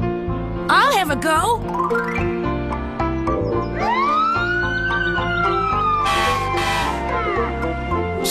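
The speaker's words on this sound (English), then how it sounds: "How would you like to try out the new fire engine siren?" A cartoon fire engine siren wails in rising and falling sweeps, loud and close, over an animated children's scene with bright synthetic tones and cartoon voices talking.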